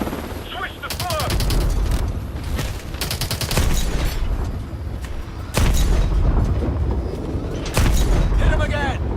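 Heavy tank cannon blasts and rapid gunfire from a Call of Duty Advanced Warfare battle, loud and near, with repeated bursts of automatic fire, sharp booms at intervals and a constant rumble of combat beneath.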